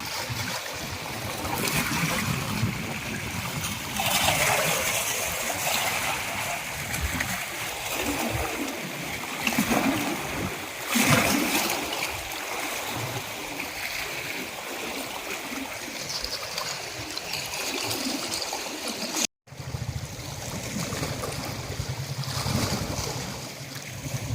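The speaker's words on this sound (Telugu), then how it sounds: "జూరాల ప్రాజెక్టు ఐదు గేట్లు ఎత్తి యాభై ఆరు వేల ఎనిమిది వందల అరవై ఐదు క్యూసెక్కుల నీటిని దిగువకు వదిలారు" Floodwater from the raised five gates of the Jurala dam roars and splashes continuously at close range, a loud, steady rushing torrent with surging swells and a brief dropout near the end.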